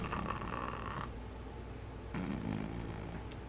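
A person imitates snoring with two long, rough, rattling breaths, each lasting about a second, close to the microphone, with a quiet gap between them.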